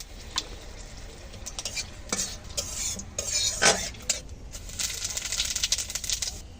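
Stirring in a pan while frying during egg and potato cooking, with clinking spoon-on-metal scrapes and taps over a soft sizzle that swells toward the end, close with no talk.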